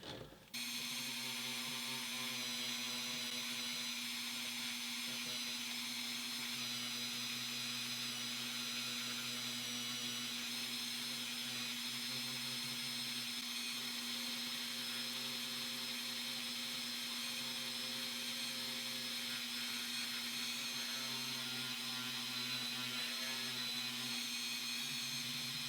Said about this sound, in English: I'm going to use a brass wire wheelie. Just try to clean up some of this toning a little bit if I can.